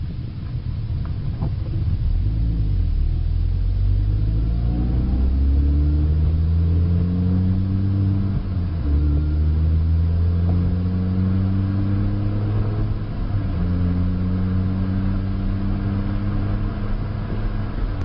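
Manual transmission car driving on the road, engine revving up through gears in repeated rising sweeps with brief dips at each shift, a loud steady close drone with no talk.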